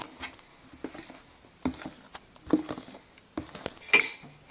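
Egg white foam is folded into sugared egg yolks in a bowl for tiramisu, with soft scraping and scattered light clinks of a utensil against the bowl, quiet and uneven, with no voices.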